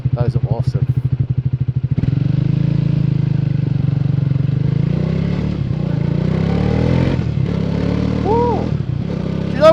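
A 2024 Triumph Speed 400 motorcycle pulls away on a road, its single engine note starting with a steady low pulsing throb, then settling into a continuous rising drone with wind noise, close and loud throughout.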